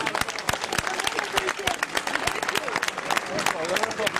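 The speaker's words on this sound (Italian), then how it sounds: "colgo l'occasione per ringraziare tutte le forze dell'ordine e fare un applauso a tutti" Audience applause at a live concert in Ragusa Ibla in 2009, a dense run of claps and crowd noise with voices mixed in throughout.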